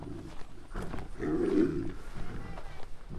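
Three tigers snarl and growl at one another, rough low rumbling bursts that swell in the middle and fade, heard at moderate distance with some faint background noise.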